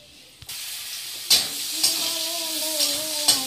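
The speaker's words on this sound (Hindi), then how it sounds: "मैं इसमें जो छौंका लगाना है तो मैं लगा देती हूँ।" Tempering spices for dal hitting hot oil in a kadai, a sudden loud sizzle that keeps hissing steadily with a few sharp bursts as the spices are stirred.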